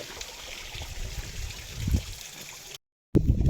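Close, steady trickle of water running down near a temple, a soft continuous gurgling wash that cuts out abruptly for a moment before resuming.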